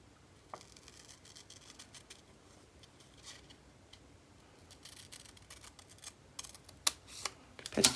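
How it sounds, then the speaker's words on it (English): Scissors cut a paper postcard in half while gluing collage postcards, giving a few crisp, close snips near the end after quiet handling and rustling. "So I'm going to cut this in half."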